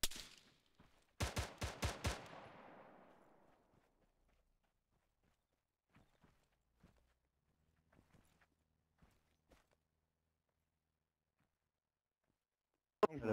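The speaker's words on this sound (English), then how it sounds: "No, I just fired some warning shots." Warning shots fired from a gun in a video game, a quick burst of several sharp, loud shots ringing out near the start, then faint scattered clicks and footsteps, and one more sharp report at the very end.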